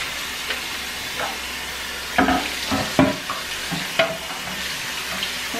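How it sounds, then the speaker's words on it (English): A humidifier part being rinsed out with water in a bowl, with splashing and swishing plus a few sharper knocks and clatters near the middle, close and without any talking. "I'm going to rinse this out."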